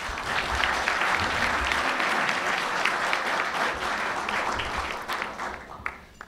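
Steady applause from a large audience at a press club luncheon, sustained and even across the room for several seconds before thinning out near the end.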